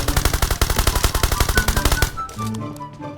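Rapid automatic gunfire from an M4 with no attachments in Game for Peace, a loud, steady burst of evenly spaced shots lasting about two seconds, then cut off, followed by quieter in-game sounds.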